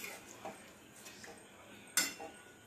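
A spoon gently stirs a Bengali-style lote fish kosha curry in a pan, making faint, sparse metallic clinks and scrapes, with one sharper clink standing out.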